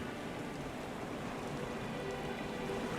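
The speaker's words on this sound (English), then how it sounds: "Rain's picking up too." Steady rain falls in the ship-and-sea simulation game Stormworks, a soft, even hiss of drops with no breaks over a few seconds, fairly quiet and with no speech.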